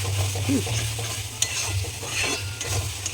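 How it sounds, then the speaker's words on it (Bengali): Spice paste with green chilli, chilli powder and turmeric sizzling in a pan as it is stirred, a close, steady frying hiss with light scraping. "এমনি তো কাঁচা লঙ্কা দিয়েছি অল্প একটু লঙ্কা গুঁড়ো দিয়েছি হলুদ আর যা যা ছিল সব যেহেতু এটা কষা হবে ওই জন্য মশলা একটুখানি কষিয়ে"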